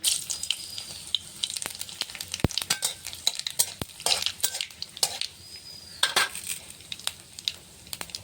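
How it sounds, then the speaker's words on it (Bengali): Dried red chilies and black cumin crackle in hot mustard oil in a kadhai, an irregular close sizzle punctuated by sharp spatula clinks and scraping stirs against the pan. "কড়াইতে সর্ষের তেলটা দিয়েছি, গরম হয়ে গেছে। ফোড়নে দেব শুকনো লঙ্কা, কালো জিরে"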